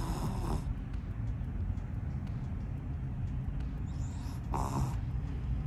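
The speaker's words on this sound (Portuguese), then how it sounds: "eu não sei nem se vocês conseguem ouvir o ronco dela aqui do lado, porque eu tô ouvindo" A woman sleeps and snores beside someone in a quiet indoor room, with low, rumbling breaths and a couple of brief louder snorts near the start and end, heard close and steady.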